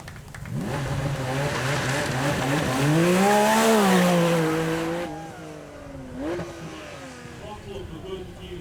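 A track-focused supercar at the Beaulieu Supercar Weekend pulls away hard, its loud engine note climbing through the revs, peaking, then shifting down to a steadier drone as it moves off.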